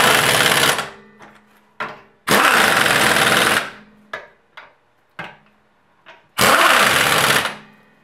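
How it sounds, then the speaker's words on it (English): Pneumatic impact gun tightening wheel lug nuts during a brake pad job: three loud sustained buzzing bursts, each about a second long, separated by short clicks and taps of the socket seating. "Grab your impact gun. Slowly start tightening them down."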